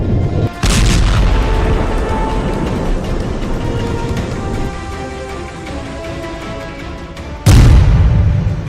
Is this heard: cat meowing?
no